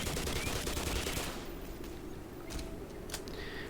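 Gunfire from a weapon in the Half-Life Xen beta game, a rapid burst of shots at the start followed by a few sparser, fainter cracks against a low game background.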